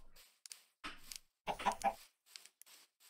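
Chickens in a coop cluck in short, soft bursts separated by brief quiet gaps, close by and fairly faint, with no voices over them.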